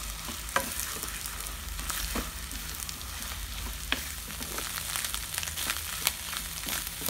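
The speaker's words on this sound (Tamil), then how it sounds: "ஃப்ளேம் மீடியமாக வச்சு நல்லா கிளறி விடணும்." Drumstick leaves and egg stir-fry sizzling steadily in a pan over medium flame, with scattered scraping taps of a spatula stirring the mixture throughout.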